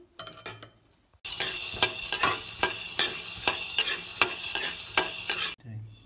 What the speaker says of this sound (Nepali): अब चाहिँ भटमास भुट्न जाँदैछु यो चाहिँ कालो र सेतो दुईटै भटमास छ